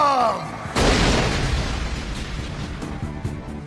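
A heavy power bomb wrestling slam lands in an anime fight, a sudden loud boom that follows a brief voice and then decays into a rumbling, crackling tail.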